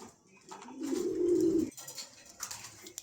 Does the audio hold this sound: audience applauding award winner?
no